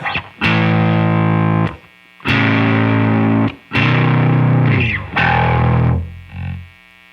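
Electric guitar through a Ramble FX Marvel Drive overdrive pedal with heavy compression, four loud distorted strummed chords each ringing out before stopping, near and alone.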